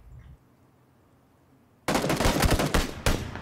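SKS rifle shots ring out in a PUBG match, a loud close burst of rapid repeated gunfire that starts abruptly after a near-silent moment and continues to the end.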